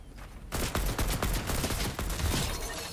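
An AK rifle fires in Fortnite Season 5, opening after a brief pause into a loud, rapid automatic burst that keeps going steadily to the end.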